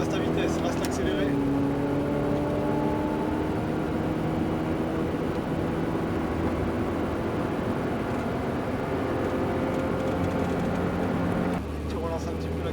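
A Ferrari engine accelerating while being driven, with its tone climbing steadily as it pulls through the gears, loud and close inside the car under an instructor's coaching voice, then dropping away near the end.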